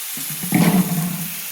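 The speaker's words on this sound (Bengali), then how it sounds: "তো এবার আমি জল ঢেলে দেব।" Water is poured into a pan of simmering papaya curry, a brief close gush that swells and settles into a steady low rush.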